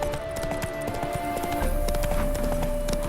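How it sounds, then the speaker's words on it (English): A spooked horse in The Witcher 3: Wild Hunt, steady rapid clip-clop of hooves at a gallop, loud and close over game music and ambient sound, with no talking. "Spooking my horse."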